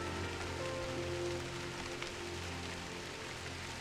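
Light drizzle falls in the video game Drizzle Path: Genie, a soft, even patter that holds steady throughout beneath faint sustained tones.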